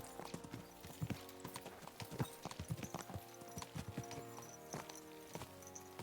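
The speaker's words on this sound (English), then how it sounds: "Let's really spur these horses on, eh?" Horses' hooves clip-clop in a quick, uneven rhythm at a video-game gallop, close and distinct over a faint steady background hum, with no voices.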